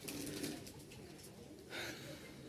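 Soft cooing of a male Jalali-coloured pigeon sounds a few times against faint background noise, low and murmuring, with no talking.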